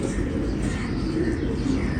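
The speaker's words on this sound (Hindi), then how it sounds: "पुराना कबूतर है मेरा ये" Racing pigeon cooing close by, soft repeated throaty coos over a murmur of background noise.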